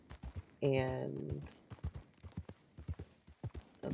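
Horse hooves clip-clop in a steady rhythmic patter in a video game, with a loud horse whinny near the start and a voice speaking briefly.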